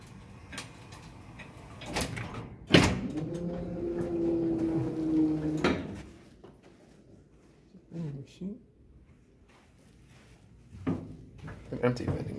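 A Savaria wheelchair elevator with a 750-pound capacity, in a building on River Road in Fair Lawn, New Jersey, runs with a loud, steady motor whine for about three seconds, framed by clunks and knocks.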